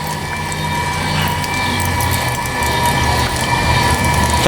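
A 12-volt solar-powered water pump draws water up a pipe from a well, giving a steady, close mechanical hum over rushing, gurgling water that runs continuously without pause.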